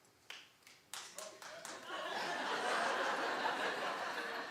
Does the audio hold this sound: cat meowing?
no